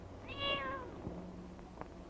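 A single clear cat meow, rising then falling, close by in a quiet room, followed by faint soft rustles.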